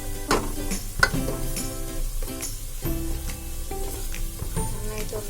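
A cabbage Manchurian with spring onion is stirred in a pan, a utensil scraping and knocking against the metal over steady sizzling, with occasional sharper clinks and no talking.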